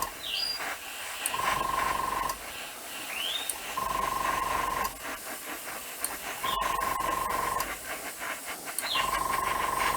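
Paint sprays from an airbrush in several bursts of a few seconds each, a steady airy hiss with brief pauses between passes, fairly close and fairly quiet.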